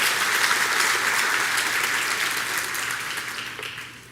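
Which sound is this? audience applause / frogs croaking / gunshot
audience applause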